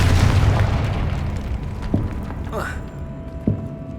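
A Confringo fire spell explodes in the Hogwarts Legacy video game: a dull, rumbling boom followed by crackling bursts and a brief rising whoosh, heard over continuous game ambience.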